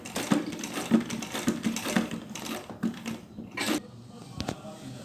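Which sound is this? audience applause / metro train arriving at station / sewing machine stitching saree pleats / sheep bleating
sewing machine stitching saree pleats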